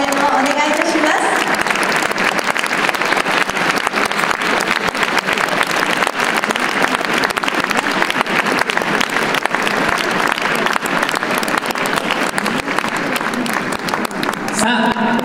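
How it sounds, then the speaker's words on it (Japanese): Sustained, dense audience applause fills a dance hall as couples take the floor for a Latin final at an all-Japan dance championship, loud and steady throughout with faint talk beneath it. "会場の皆様、選手に大きな拍手での応援をお願いいたします"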